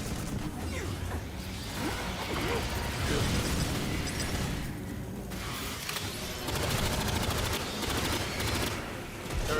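Sustained gunfire at Xenos in the co-op shooter Aliens: Fireteam Elite 2, with continuous dense bursts and explosive blasts over nearly ten seconds, while players talk over the combat.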